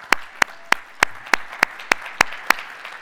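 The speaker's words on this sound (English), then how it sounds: "Let's give Tim another round of applause." An audience at a cyber security talk claps in sharp, evenly spaced single claps, about nine in three seconds, loud and close with no voices.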